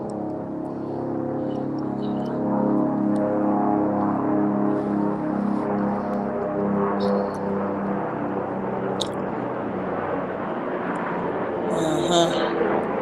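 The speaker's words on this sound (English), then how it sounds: "This is a helicopter." Steady low droning engine hum of a helicopter overhead, continuous and fairly loud, with a few faint clicks and rustles on top.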